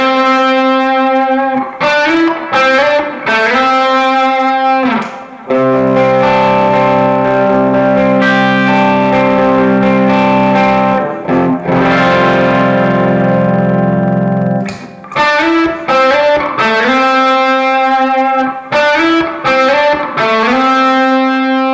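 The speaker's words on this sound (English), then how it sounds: "going from a thick gainy kind of sound that you might use for a riff or a lead break, and then going to a more jangly, clear, clean rhythm sound" A Gibson Les Paul electric guitar run through a Tone Gnome pedal plays loud, thick overdriven chords and notes before shifting to a brighter, jangly clean rhythm, with sustained ringing passages in between and no voices.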